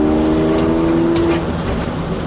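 A Mitsubishi 3000GT on rally coilovers cruising at about 40 mph while its brakes are bedded in, a steady loud engine drone with road and wind rumble from inside the cabin, no talking.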